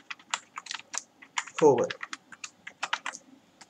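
Quick, close key taps on a computer keyboard come in irregular bursts as code is typed. Someone says a single word midway through.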